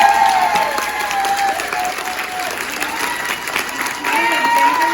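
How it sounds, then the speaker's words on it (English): Audience applause fills a stitching retreat gathering, steady dense clapping with a few whoops and voices rising over it, loud and sustained for several seconds. "can we have an applause for these two?"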